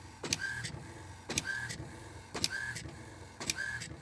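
An Epson 15000 printer prints a DTF transfer, its print head sweeping back and forth in four evenly spaced passes, each pass a quiet mechanical whir ending in a brief higher whine.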